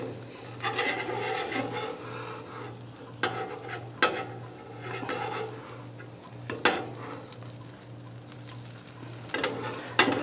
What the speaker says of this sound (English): So, I think we need to flip our eggs.